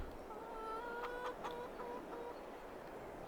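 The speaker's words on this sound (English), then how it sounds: "Let's have a look, see how our chickens are doing." Chickens clucking in the farming game Farming Simulator 22: a run of short, bright clucks and squawks over a soft, steady ambient bed, with several quick calls bunched near the middle.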